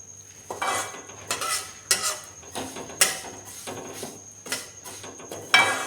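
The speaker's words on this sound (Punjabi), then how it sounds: "ਇਹਨੂੰ ਥੋੜਾ ਜਿਹਾ ਆਪਾਂ ਭੁੰਨ ਲੈਣਾ ਹੁਣ" Vermicelli roasts in ghee as a spatula scrapes and stirs it in a metal pan, giving repeated rhythmic scraping strokes about every half second over a faint sizzle, close and without talk.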